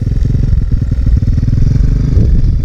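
A Kawasaki motorcycle engine sits in neutral without being revved, giving a loud, close, steady low thrum of rapid firing pulses and no speech.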